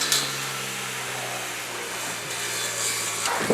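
A steady electric motor whine from a battery-powered grass trimmer, with a constant tonal hum, running continuously at moderate level, close by, with no voices.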